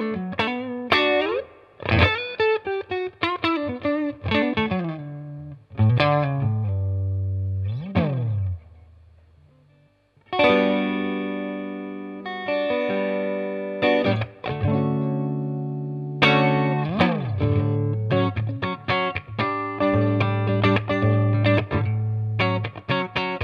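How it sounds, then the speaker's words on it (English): Clean electric guitar through a Flint reverb pedal plays chords and short melodic phrases with a shimmering, lingering reverb tail, and notes ring out and decay through gaps. "And this is what a Flint sounds like."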